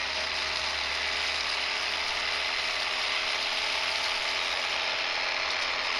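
A WORKPRO X battery-powered seed spreader broadcasts small grains with a constant, loud whirring and rattling hum from its spinning mechanism. The sound stays steady throughout, with no voices.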